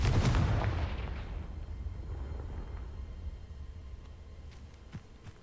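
A Confringo fire spell blast in the Hogwarts Legacy video game opens with a loud, booming explosion, then fades into a long rumbling tail. A few faint clicks follow near the end.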